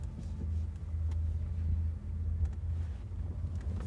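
A car driven slowly by a teenage learner gives a low engine rumble with wind buffeting, steady and close inside the cabin, with no talk heard.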